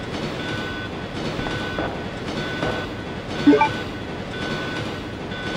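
Train running in the video game Resident Evil 2, a continuous rumbling rail noise with rhythmic clatter and faint repeating beeps, steady and moderately loud with no speech.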